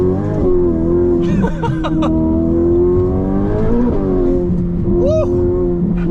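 Ferrari F8 Tributo V8 engine accelerating hard at high speed, a loud, steady rising howl from inside the car with brief shift breaks, while a person exclaims over it.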